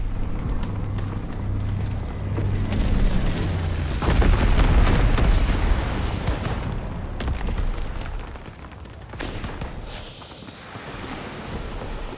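Incendiary bomber strike in the video game Call of Duty: WWII, a dense run of heavy booming explosions and crackling debris, loud and close, building to a peak then tailing off into rumbling aftermath.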